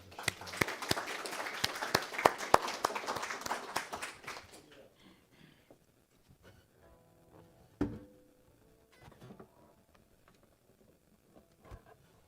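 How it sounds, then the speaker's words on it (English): A church congregation applauds during a Sunday service: dense, loud clapping for about four seconds, then it thins out to a few scattered claps and soft room noises. "So let's give her a round of applause for all that she's doing."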